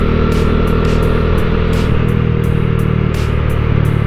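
A 2022 Bajaj Dominar 400 motorcycle cruising on a highway, a loud, steady engine drone with constant wind buffeting, close and continuous.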